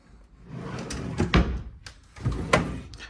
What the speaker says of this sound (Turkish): Burası benim ayakkabı çekmecem.